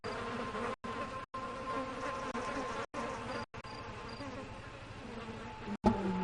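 Bees buzz in the PC video game Ghost Master, a steady loud insect drone filling the scene with brief cutouts, layered over game ambience and a sharper effect near the end.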